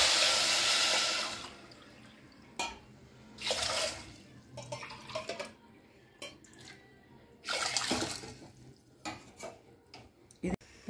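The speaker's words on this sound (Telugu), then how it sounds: "ఎన్ని కప్పులు వేసామో అన్ని కప్పులు వాటర్ వేసుకోవాలి." Water splashes and pours into a pan of jaggery and sugar for syrup, in several bursts with pauses, along with clinks of a utensil against the pan.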